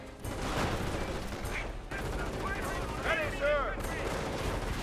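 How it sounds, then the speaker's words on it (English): Gunfire in the World War II strategy game Company of Heroes, with grenadiers firing assault rifles: continuous distant crackling shots over a busy battle backdrop, with some whistling effects mixed in. "Grenadiers with STGs firing away, 2-2 firing."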